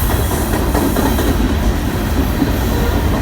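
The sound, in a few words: BNSF freight train passing on the rails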